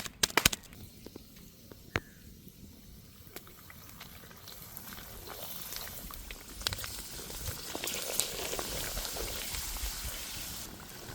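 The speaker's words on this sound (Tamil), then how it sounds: "அட்டகாசமான அப்பளத்தை பொறிக்கிறதுக்கு நல்லெண்ணெய் ஊற்றிக்கிறோம்" Appalam papadums frying in hot sesame oil, a soft bubbling crackle that starts quiet and grows steadily denser and louder toward the end, with a few sharper pops along the way.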